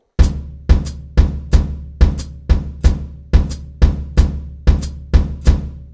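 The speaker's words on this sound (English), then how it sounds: "The bass drum pattern sounds like this." Bass drum on a drum kit strikes about a dozen punchy, booming hits in a steady, evenly spaced pattern, each with a sharp attack and short decaying ring, loud and close with no voices.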